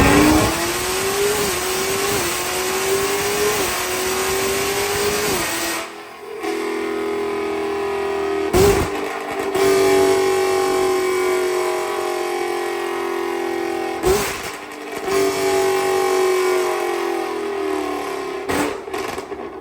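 A naturally aspirated sixth-generation Chevrolet Camaro with a heads and cam build roars on a chassis dyno, its engine note climbing steadily through long wide-open pulls, with brief cuts between runs and no talking.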